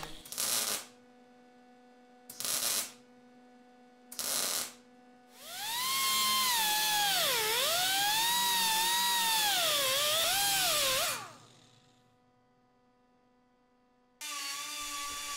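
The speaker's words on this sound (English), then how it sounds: "it's easier to cut the whole area out and patch it all at once" A power tool cuts rusty sheet metal out of a Jeep CJ5 body, starting with three short bursts and then a long, loud, wavering whine of around five seconds before another short burst, with no talk.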